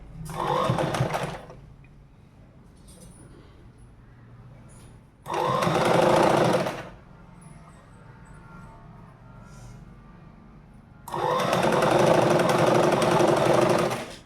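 A sewing machine stitches a folded jacket seam in three loud, close bursts of rapid mechanical whirring, separated by quieter gaps with faint handling sounds.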